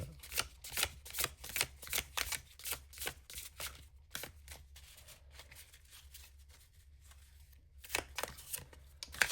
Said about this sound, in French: la première fois que je vais brasser des cartes avec un format comme ça